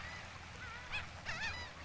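A laughing gull calling near feeding pelicans on the shore, two or three nasal, honking yelps rising out of a steady background hiss.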